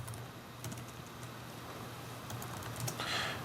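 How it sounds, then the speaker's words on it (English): Someone types a command on a computer keyboard during an Asterisk server install, with quick, close, irregular key clicks over a faint steady background hum and no talk. "I'm just typing in the command so you can see this."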